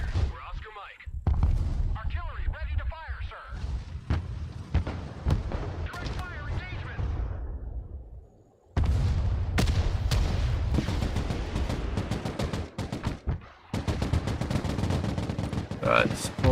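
Artillery fires in the video game Broken Arrow in heavy, rolling salvos of booming blasts and crackling reports, nearly continuous and loud, with one short lull midway.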